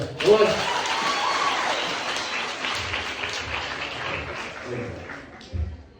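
Audience applause at a film trailer launch for Gauri in Karnataka, a dense, steady clatter of clapping from a crowd that carries through the whole stretch and swells once near the end.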